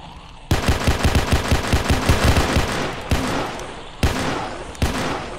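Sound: gunfire in Roblox horror game

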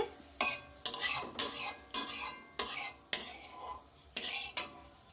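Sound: frying fish roe pieces in oil

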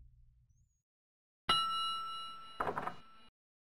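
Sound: service bell ringing on a shop counter in The Secret of Monkey Island video game

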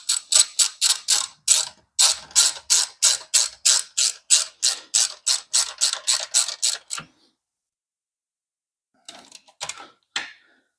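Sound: ratchet tightening bolts of motorcycle swing-arm removal kit

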